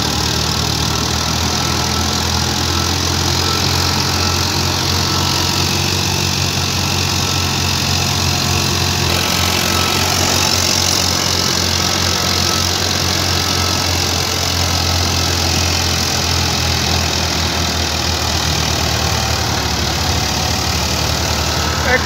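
Tractor engine running steadily at a continuous, even drone, close and loud throughout, with no voices.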